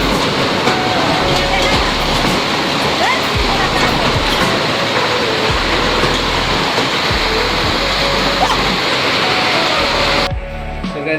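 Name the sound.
heavy hailstorm and rain in Birtamod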